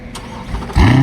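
A Chevrolet C8 Corvette Stingray on stock exhaust tips starts up: a brief starter whirr, then the engine catches with a loud, close rising roar at the end.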